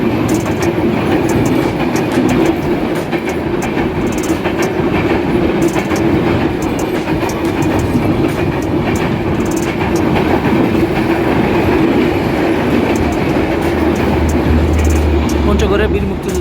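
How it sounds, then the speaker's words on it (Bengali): The Dhaka-bound 758 Down express rumbles loud and close as it passes through Raninagar station on line 1 without stopping. Wheels clatter steadily throughout while someone talks over the noise. "ঢাকাগামী 758 ডাউন দ্রুতগামী এক্সপ্রেস রানীনগর রেল স্টেশনে 1 নম্বর লাইন দিয়ে থ্রু পাস করে চলে যাচ্ছে ঢাকা অভিমুখে"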